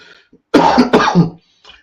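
A single hoarse cough bursts out close up, two quick chesty pulses with a faint breath after.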